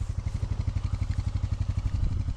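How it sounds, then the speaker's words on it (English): An ATV plowing snow off a long driveway, its engine chugging in a steady pulsing rhythm close by with a clattery low rumble throughout. "Here's another view to show you how efficiently an ATV can plow a driveway."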